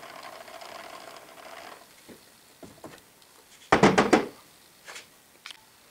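The cross slide is cranked off a South Bend lathe, with soft metallic clicks and ticks, then a short burst of loud ratcheting clatter and a few scattered knocks.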